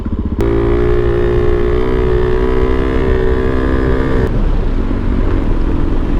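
Suzuki DRZ dual-sport motorcycle engine running close by, a loud steady throbbing drone with a slight pitch rise in the middle, continuous for several seconds.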